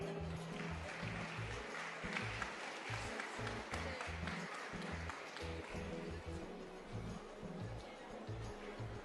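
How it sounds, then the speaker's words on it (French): Audience at the MFR de Beauchamp event in Eyragues applauds steadily for several seconds, a dense, fairly distant wash of clapping with a low rumbling background and some voices underneath. "On peut les applaudir"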